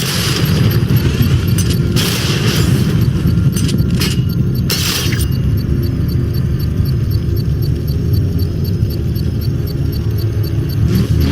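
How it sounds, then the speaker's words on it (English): Controlled bomb explosion set off with a power winch in Batman: Arkham Knight, a sharp burst with crackling, shattering debris, then a long loud rumbling roar that carries on steadily afterward. "I can use the power winch to trigger a controlled explosion"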